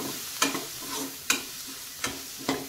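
A sizzling pan mixture with chilli powder hisses steadily as a spoon scrapes through it in four distinct strokes, each a sharp scrape over the constant frying noise, with no talking.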